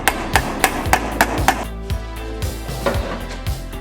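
Hammer blows land on the metal body of a Karmann Ghia during restoration. Several sharp, ringing strikes come in a quick irregular burst, then fewer, softer taps follow after a pause. No one speaks.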